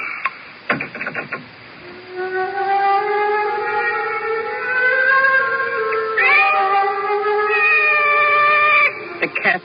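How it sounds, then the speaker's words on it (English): A cat meows in a long, drawn-out, rising and wavering call, loud and close, in a 1982 CBS radio mystery drama, with a few sharp clicks at the start. "The cat's awake."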